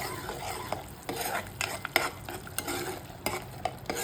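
Raw cashews are stirred in a pan of dum aloo with cashew paste, giving quick scraping spoon strokes in a loose rhythm over a soft sizzle, close and quiet.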